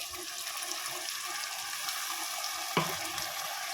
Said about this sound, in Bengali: এবার এই মশলাটা দিয়ে দেবো, আদা রসুন পেঁয়াজের পেস্ট